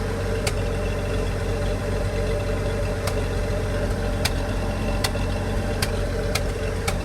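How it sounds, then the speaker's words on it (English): A 1974 Ford F-250 with a 4.9 engine and points ignition idles steadily and not fully warmed up, a constant low rumble with a few sharp ticks and faint sputters breaking through at irregular intervals. "When the engine's not fully warmed up and it's not on a perfect idle, you'll get that little bit of kind of spluttering."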